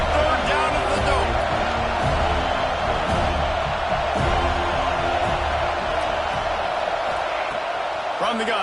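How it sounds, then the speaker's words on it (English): Stadium crowd roaring on third down in a football video game at the dome, a dense, loud, sustained wall of noise with a steady rumble throughout, while a commentator talks over it. "They're bringing the noise on third down at the dome."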